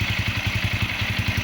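A motorcycle fitted with an Exos X-6 aftermarket exhaust pipe idles steadily nearby, its low, even pulsing burble mild rather than loud, with no other sounds.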